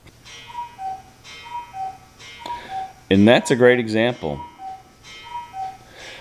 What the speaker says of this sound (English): That's the alarm, that's the cuckoo clock